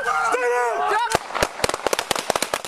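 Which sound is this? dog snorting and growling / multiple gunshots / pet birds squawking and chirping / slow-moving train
multiple gunshots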